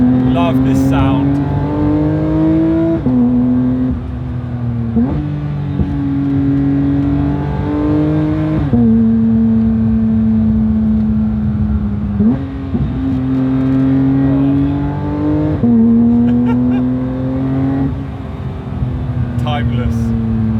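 A Porsche 992.2 GT3 engine drones steadily while climbing the Susten Pass, a strong sustained tone that rises and drops with gear changes, heard from inside the car at a constant loud level.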